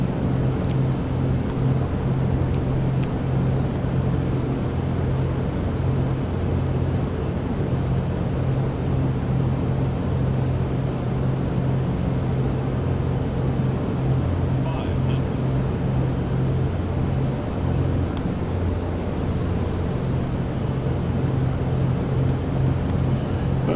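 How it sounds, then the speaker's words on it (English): Beechcraft Baron 58 twin-engine airplane in flight in the X-Plane 11 simulator, a steady droning engine hum that holds at a constant loud level throughout, with a person talking over it. "the Baron 58 is an old airplane, but works real well"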